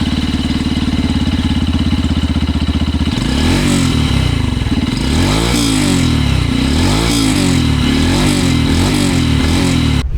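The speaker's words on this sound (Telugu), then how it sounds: "ఈ బైక్ ఎగ్జాస్ట్ నోట్ ఎలా ఉందో ఒకసారి చూద్దాం మనం" A 2025 Yamaha FZ-X motorcycle exhaust, loud and close: a steady idle thump for a few seconds, then repeated throttle blips rising and falling in pitch.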